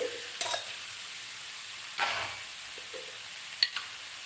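Capsicum and potato frying in a pan, a steady soft sizzle broken by a few brief scraping stirs of a spatula, close and fairly quiet with no talking.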